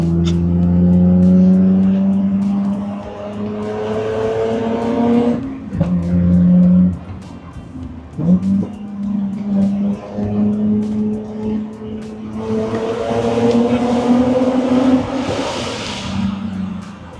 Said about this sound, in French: je vais me tais pour qu'on écoute bien le moteur